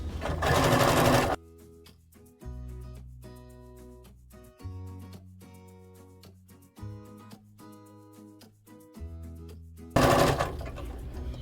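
A sewing machine stitches appliqué in short runs of rapid needle clatter, stopping briefly between bursts for small pivots, close and clear, with louder rustling noise at the start and end.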